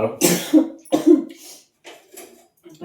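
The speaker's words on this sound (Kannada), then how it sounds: "ಕೆಮ್ಮು ಯಾಕತ್ತೈತೆ ನಿಮ್ಗೆ?" Several sharp, close coughs in quick bursts, with short pauses between them and a throaty rasp.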